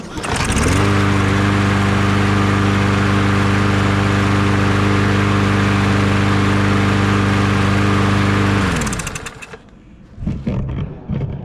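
Engine of a TroyBilt TB110 push mower with auto choke and no primer fires up and runs at a steady, loud drone for about eight seconds close by, then cuts out abruptly, leaving faint handling noises.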